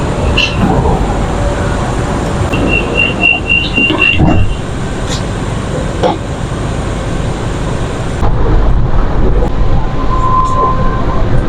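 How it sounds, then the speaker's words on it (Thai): A Bangkok MRT Yellow Line monorail train rumbles and hums steadily as it slows into a station, with a high squealing tone and a few clunks, a door chime near the end. "ตอนนี้รถไฟก็กำลังจอดแล้วค่ะ"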